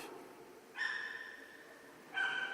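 A dog gives two short, fairly faint barks about a second and a half apart, heard at some distance over a low background hiss.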